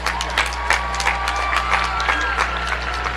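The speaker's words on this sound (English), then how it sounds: "give yourself a round of applause" A crowd claps in scattered, continuous applause with some faint cheering, moderately loud and sustained throughout.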